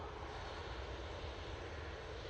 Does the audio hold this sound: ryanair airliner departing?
yes